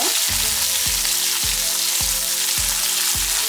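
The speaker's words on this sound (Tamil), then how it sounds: "இப்போ இந்த உள்ளி வந்து கொஞ்சம் இந்த எண்ணெயில் வந்து பொடி பரட்டும்" Garlic and curry leaves frying in oil: a dense, loud, steady sizzle with regular low thumps repeating about every half second.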